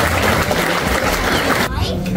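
An audience at a Bharatanatyam arangetram in the UK claps loudly in a thick burst that cuts off abruptly, with a voice speaking over and after it.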